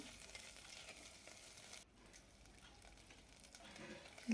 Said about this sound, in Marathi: छान तेल सुटेपर्यंत परतून घ्यायचं